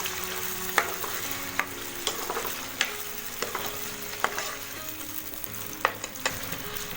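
Garlic and yogurt fry in a handi, giving a steady close sizzle broken by regular scraping taps of a spoon stirring about once every second.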